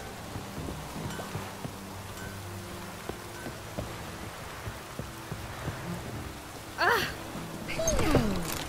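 A heavy downpour in The Witcher 3 patters steadily throughout, with a few soft knocks and a couple of brief tonal swoops near the end.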